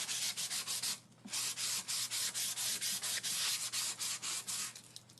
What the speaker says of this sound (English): really getting that down, sanding, sanding, sanding